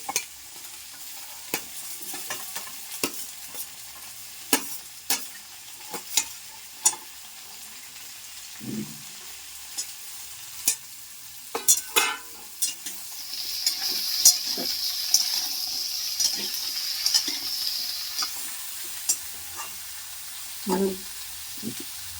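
Pumpkin, tomato, drumstick and green chili frying in a pan for a vegetarian curry, a continuous sizzle punctuated by repeated sharp scrapes and clinks of stirring, close and moderately loud, with no talking.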